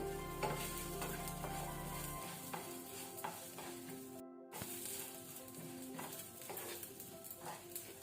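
Coriander seeds and cumin roasting in a pan for Mangalorean clam curry crackle and rustle as they are stirred in close, repeated scrapes, with a low hum fading early and a brief dropout midway.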